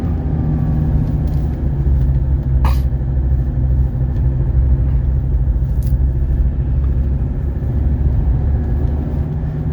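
A 1982 Mercedes 300SD on its first test drive, heard from inside as a steady, loud low rumble of engine and road noise throughout, with a couple of brief clicks and no talking.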